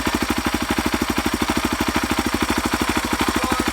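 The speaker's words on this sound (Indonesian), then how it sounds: "Jadi ini dia suara mesinnya." A Kawasaki KLX 230R dirt bike engine idles steadily nearby, its rapid, even putter holding a constant rhythm throughout with no other sounds.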